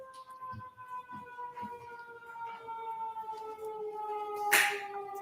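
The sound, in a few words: siren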